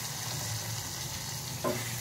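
Chutney goes into a hot pan with a low, steady sizzle, close and fairly quiet, with one brief clink of a utensil near the end and no talk.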